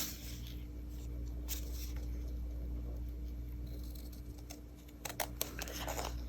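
Paper trimmed for a craft journal entry, a few soft snips and rustles close by over a quiet room hum, with sharper cuts clustered near the end.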